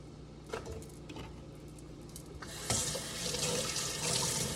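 Tap water runs into a kitchen sink while trimmed vegetables are rinsed under it, a soft steady stream with a few small knocks that swells louder and brighter after a few seconds.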